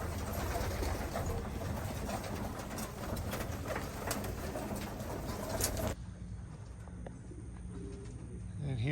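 Racing pigeons at a training toss coo in repeated soft, throaty calls with a few chirps, close by over a constant rushing background that drops away sharply partway through, leaving the cooing quieter against a calmer backdrop.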